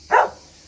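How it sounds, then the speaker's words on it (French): A dog gives a single short bark at a llama shearing, moderately near and brief, followed by quiet. "Donc ça, les chiens vont aboyer."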